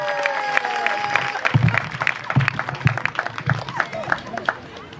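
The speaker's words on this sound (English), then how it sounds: "Let's clap for her." An audience at a school math week celebration claps for a top-scoring student, a mix of distinct hand claps amid crowd chatter and voices, fairly close and moderately loud.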